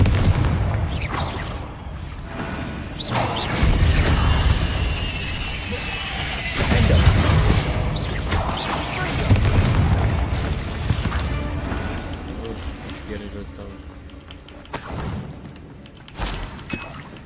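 Confringo explosion spells in Hogwarts Legacy go off as repeated booming blasts and crashing bursts over about seventeen seconds, layered with game effects and a brief spoken incantation.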